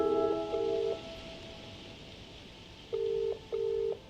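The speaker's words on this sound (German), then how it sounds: "Können wir den nochmal anrufen?" Telephone keypad dialing in the video game Contradiction: two short electronic tone beeps, a quiet pause of about two seconds, then two more beeps, clear and close with no talking.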